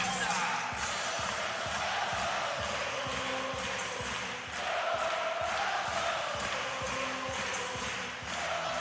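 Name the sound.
crowd at volleyball World Championship final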